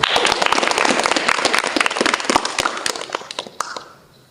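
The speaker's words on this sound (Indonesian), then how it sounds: "Boleh minta tepuk tangannya?" Sharp, crackling applause from a school talk-show audience, many close claps in a dense burst that thins out and fades away near the end.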